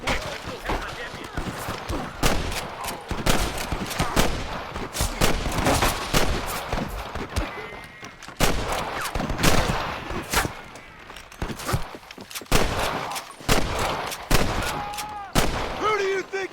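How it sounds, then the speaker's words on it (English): Gunfire in the Western video game Red Dead Redemption: rapid, loud volleys of overlapping gunshots crack repeatedly throughout, some bursts dense like a fusillade, with character voices shouting under and between the shots. "I can hear more gunshots."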